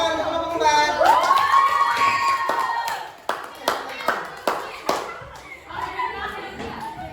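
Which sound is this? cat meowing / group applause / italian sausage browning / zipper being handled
group applause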